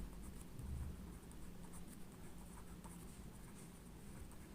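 Chalk or marker writing out a formula for a square's diagonal during a Hindi maths lesson on area of a square, a faint continuous scratching under steady background noise, with no talk.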